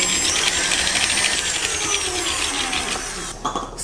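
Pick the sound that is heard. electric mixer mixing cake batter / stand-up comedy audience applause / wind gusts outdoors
electric mixer mixing cake batter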